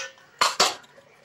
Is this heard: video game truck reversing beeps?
no